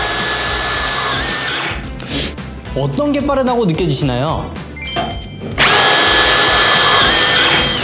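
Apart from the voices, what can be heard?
Milwaukee M18 FQID2 impact driver driving screws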